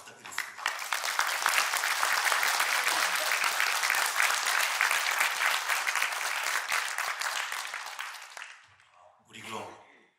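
An audience at a Korean progressive political party launch event claps loudly and steadily for about eight seconds, a dense close applause that fades out, followed by a brief voice.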